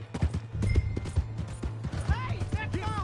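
Horse hooves clip-clopping in the video game Red Dead Redemption 2, a quick irregular trot of hoofbeats heard under voices talking, with a whinny near the end.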